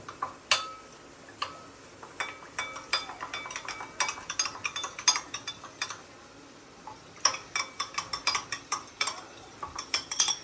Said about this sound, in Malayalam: 1 ടേബിൾ സ്പൂൺ ശകലം വെള്ളം ഒഴിച്ച് ഇതൊന്ന് കലക്കിയെടുക്കുക.